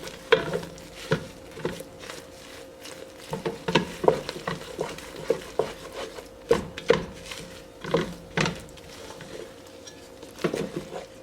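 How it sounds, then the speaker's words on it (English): Marshmallows melting in a pot while being stirred, repeated knocking and scraping strokes of a spoon against the pot in an uneven rhythm over a faint background, close by with no speech. "So in goes the 2 cups of marshmallow. And you want to keep stirring that."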